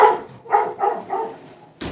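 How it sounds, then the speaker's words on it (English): A dog barks repeatedly outdoors, four loud close barks in an uneven rhythm followed by a short sharp sound at the end. "Dog just constantly barks."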